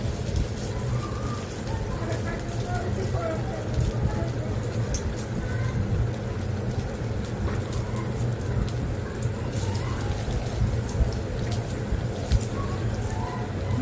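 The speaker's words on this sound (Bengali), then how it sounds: "এখন সবগুলো পাকোড়া ভেজে নিব।" Noodle pakoras deep frying in hot oil, a steady, dense sizzle and crackle with tiny pops throughout, close and constant.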